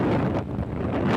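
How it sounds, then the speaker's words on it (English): Strong gusts from Typhoon Rai roar through the Philippines in a loud, continuous rush that buffets the microphone. It fills the brief moment alone, with no voices. "Typhoon Rai blasted ashore with wind gusts as fast as 300 kilometers per hour"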